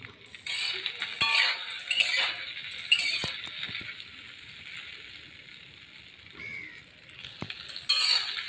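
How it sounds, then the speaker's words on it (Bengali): Soybean chunks frying in a pan to brown them: a steady, moderately quiet sizzling hiss broken by occasional clinks and scrapes of stirring, with no voices. "লাল করে ভেজে নিব।"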